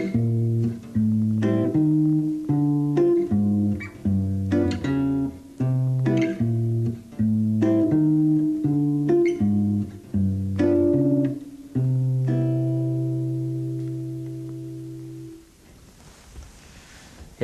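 Fingerstyle jazz guitar playing tritone substitution chords with the bass notes brought out, a steady sequence of plucked chords in even rhythm before a final chord rings out and fades, close and clear, with no talking.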